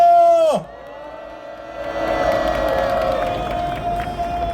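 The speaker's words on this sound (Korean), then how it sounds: "동지들의 함성과 박수로 시작하겠습니다" A crowd at a political citizens' rally in Daejeon roars and cheers after a loudspeaker-amplified announcement, with whoops and clapping building into a sustained, fairly loud wash that carries on to the end.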